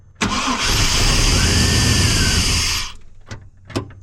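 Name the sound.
Chevrolet 1500 truck engine cranking with starter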